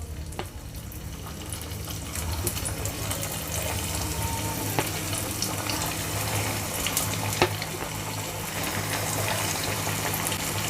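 Boneless chicken pieces for KFC-style fried chicken go into oil, giving a soft, steady bubbling sizzle with scattered crackles and pops over about ten seconds.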